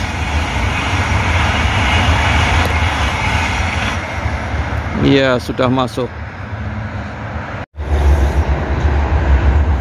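A high-speed train on the Bandung–Halim line roars past close by with a steady low rumble, a brief horn blast rising over the noise midway, and someone speaking over it.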